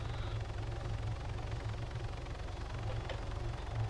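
In the video game Arma 3 on the Stratis map, a helicopter gives off a faint, steady low rotor and engine drone with a rhythmic pulse, continuous and in the background, with no speech.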